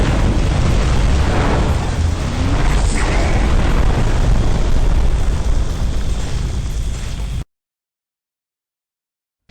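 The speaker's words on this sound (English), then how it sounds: "some buildings like fuel depots will cause a huge explosion that will kill you" A fuel depot building explodes in the video game MechAssault with a huge, sustained roaring blast that fills several seconds before cutting off abruptly into silence.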